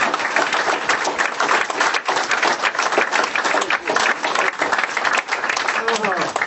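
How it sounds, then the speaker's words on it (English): A room full of people at a Fred Thompson campaign event in Iowa applauding steadily for several seconds, dense clapping with a few voices mixed in near the end. "could I have a round of applause?"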